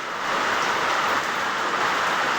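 Steady, dense rain falls outdoors at a building site, a continuous even hiss that holds without letup and with no voices.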